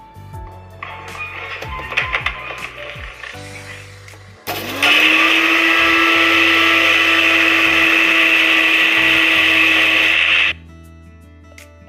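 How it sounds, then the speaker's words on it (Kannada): Mixer grinder pulverising chunks of dried bread into crumbs: a loud, steady motor whine with a high-pitched grinding roar that starts abruptly after some clattering of pieces into the jar, runs for about six seconds, then cuts off. "ಇದನ್ನು ನಾನು ಮಿಕ್ಸಿಗೆ ಹಾಕೋತೀನಿ."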